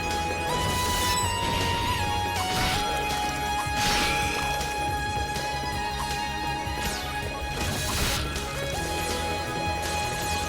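A dense, loud burst of crashing, rumbling boss death effects from the video game Ys 6, with sustained tones, continuous for about ten seconds without pause.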